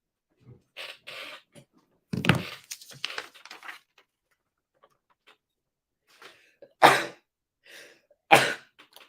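A live baseball play-by-play commentator, calling a Phillies versus Cubs game, lets out two sharp, loud sneezes close to the microphone near the end, after a stretch of faint scattered sounds and a brief burst of noise.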